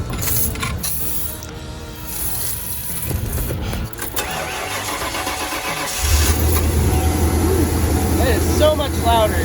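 A 1996 Ford Econoline van engine with its engine cover off cranks and fires up, then settles into a loud, steady idle close by, after a stretch of mechanical clatter and background noise.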